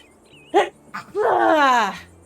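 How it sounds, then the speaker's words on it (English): A person sneezes indoors: a sharp inhaled catch, a short burst, then a drawn-out, voiced follow-through that trails off. "Uh-oh, I have to sneeze."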